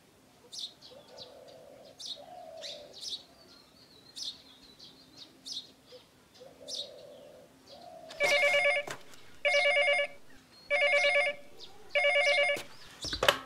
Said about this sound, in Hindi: मैं तो हर रोज सारा से अभी फोन मिलाता हूँ।